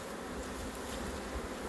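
A large honeybee swarm, caught on a fir tree at a home apiary and being moved into two boxes, hums in a dense, continuous buzz close up, steady and unbroken with no voices.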